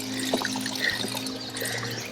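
Drinking water pours and trickles in a steady stream as it is collected at a forest water point during a trek to a camp, close and continuous with no talk.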